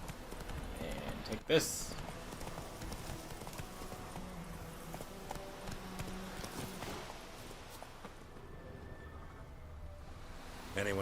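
Horse hooves clip-clopping at a steady pace in the video game The Witcher 3, running continuously under game ambience and rain, with a brief spoken line near the start.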